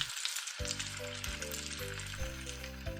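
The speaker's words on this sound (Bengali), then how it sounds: "আগে থেকে পেস্ট করে রাখা মশলা দিয়ে ভাজতে থাকবো লো টু মিডিয়াম ফ্লেমে" Spice paste for a steamed-egg curry fries on a low to medium flame, giving a steady close sizzle throughout with a low tonal hum underneath and no voices.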